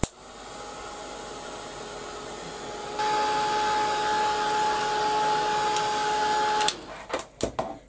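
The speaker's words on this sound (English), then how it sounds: "Get my heat gun hot." Heat gun blowing hot air for papercraft tag making, a steady close whoosh that grows louder partway through, then cuts off and is followed by a few sharp handling clicks.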